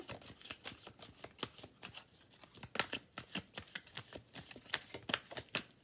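Tarot cards being shuffled for a general reading, a steady run of crisp riffling snaps and flutters, close and fairly quiet, with no talking.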